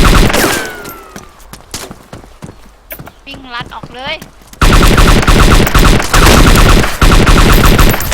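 Rapid bursts of video game gunfire crackle loudly, growing into dense continuous shooting, while someone talks excitedly over the action.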